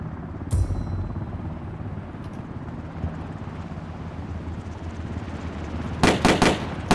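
Gunfire in the battle royale game Ring of Elysium: one sharp shot near the start, then a loud burst of three or four quick shots near the end over steady background noise.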